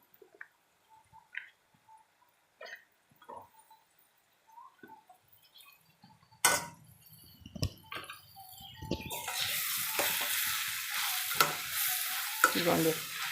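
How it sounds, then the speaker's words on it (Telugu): Small cut chicken pieces for a tamarind-leaf chicken dish start with faint clicks and handling, then hit the pan with a sudden loud sizzle that swells into steady frying with stirring. "ఇలా చిన్న పీసుల కింద కట్ చేసుకుని ఉంచుకున్న చికెన్ వేస్తున్నాను."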